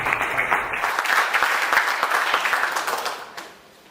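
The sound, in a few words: applause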